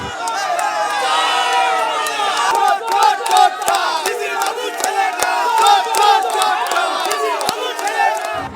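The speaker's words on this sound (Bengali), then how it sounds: "পাল্টা স্লোগান তোলে তৃণমূল।" Trinamool Congress and BJP party workers shout and chant counter-slogans at each other in a tense clash outside a police station in Parnasree, a dense, loud crowd roar with rhythmic rising and falling shouts throughout.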